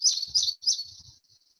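High, thin green-crowned warbler song: three quick trilled phrases in close succession, clear and near, followed by a fading tail with no voices.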